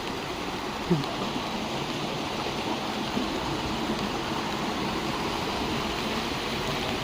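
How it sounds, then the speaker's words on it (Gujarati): Monsoon rain keeps falling in Chitrod village while collected floodwater rushes and gurgles nearby, forming a continuous, uniform wash of noise with one or two faint knocks. "વરસાદ ચાલુ છે"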